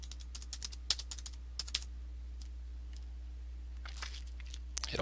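Typing on a computer keyboard, soft irregular key clicks in short bursts, close and quiet against a steady low hum.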